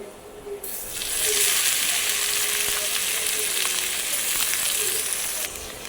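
Greens dropped into a pan with already fried onion and green chilli burst into a loud, dense sizzle that starts abruptly, holds steady for several seconds, then cuts off, heard up close with no talking.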